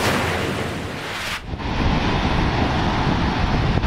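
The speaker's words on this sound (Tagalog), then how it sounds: "Malakas na alon at hangin ang nararanasan sa coastal town ng Palanan, Isabela." Strong surf and gusting wind batter the coastal town of Palanan, Isabela, as a typhoon approaches, a loud roaring wash with heavy wind buffeting the microphone and a brief dip partway through.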